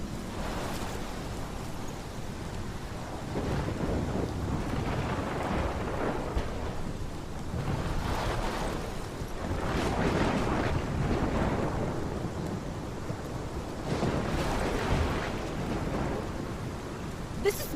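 Heavy thunderstorm in the video game Life Is Strange, with continuous rain, wind and crashing ocean surf, thunder rolling and swelling in waves throughout, loud and immersive with no talk.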